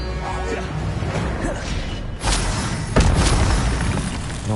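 Confringo blasting-curse blasts go off in Hogwarts Legacy, with two heavy booming bursts about a second apart rising out of a constant roar of game noise, the second one louder and rumbling.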